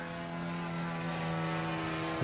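A radio-controlled model airplane flies high with power cut, gliding toward a runway, giving a steady sustained propeller drone that holds even in level throughout.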